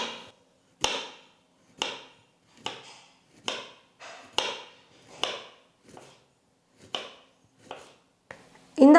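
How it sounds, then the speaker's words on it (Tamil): A knife slices thinly through raw plantain for chips, giving a steady series of about ten crisp chops spaced roughly a second apart. Each stroke is close and distinct, and no voices are heard. "கத்தியை வச்சே வந்து பார்த்திங்கன்னா நல்லா நீங்கள் நைஸாக நல்லா மெல்லிஸாக வந்து கட் பண்ணிக்கோங்க."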